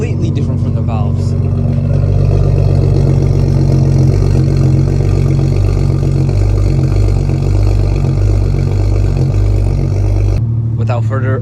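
A BMW 535i with a Stage 2+ tune and a muffler delete idles after a cold start, a loud, close, steady low exhaust rumble that holds throughout and changes tone briefly just before the end.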